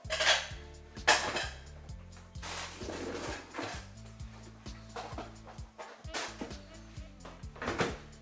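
Dishes and utensils clatter while marinated beef for Jamaican-style curry beef is moved into a smaller container, with scattered clinks and scrapes of pots and cutlery at close range.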